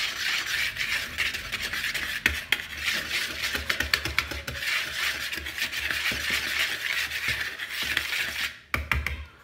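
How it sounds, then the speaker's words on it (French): Muffin batter being mixed in a bowl, a steady scraping, rasping rub of a utensil against the bowl that runs continuously with brief knocks, close and alone. "Je mélange."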